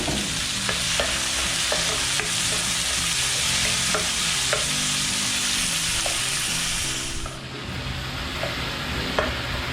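Squid adobo with onion and tomato sizzles steadily in a hot pan while a utensil scrapes and stirs in repeated strokes, close and continuous.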